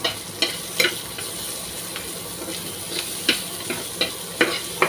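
Garlic frying in a pan as the first step of a chicken curry, a steady sizzle broken by sharp scraping clicks of stirring at a fairly regular pace, close by, with no talking.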